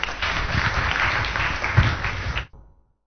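A church congregation breaks into loud, sustained applause right after a sermon, steady clapping that fills the room for over two seconds before stopping abruptly, with a faint tail of room echo.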